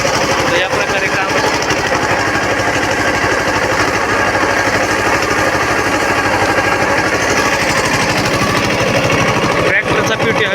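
A Mahindra Jivo 365 DI tractor works a 4 ft furrow sugarcane field, throwing up soil. Its diesel engine chugs loud and close, a steady rumble that holds for the whole stretch with no pause.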